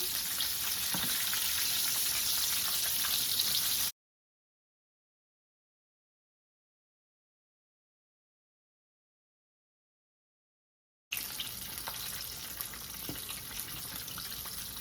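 A flipped piece of zinger burger chicken frying in hot oil, with a steady, fairly quiet sizzle. It cuts to silence for several seconds, then the sizzle resumes.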